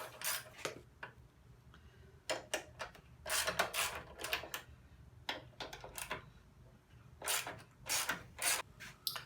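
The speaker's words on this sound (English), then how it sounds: "The next step is to remove the 4 bolts that are at the rear of the gas tank." Bolts are removed from the rear of a motorcycle gas tank by hand tool. Metallic ratcheting clicks and taps come in short irregular bursts, close and fairly loud, with quiet pauses between them.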